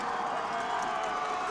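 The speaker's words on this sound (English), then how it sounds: "Listen to this crowd here." A dense crowd of fans at a high school football playoff game between Jersey Shore and Pottsville roars in a steady, loud wash of voices without letup.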